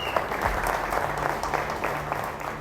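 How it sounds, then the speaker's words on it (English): A live audience at a forex trading event gives a full round of applause, dense and continuous crowd clapping at moderate distance, with a low hum beneath it. "A big round of applause."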